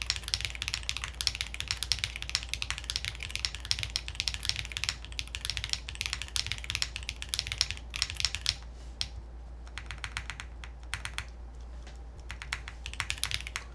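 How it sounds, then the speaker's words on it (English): Typing on a mechanical keyboard with blue cheese switches, GMK keycaps and an aluminum plate without foam, rapid crisp clacky keystrokes close up, then briefly sparser and slower before speeding up again. "let me, like, type a little bit slower here, too"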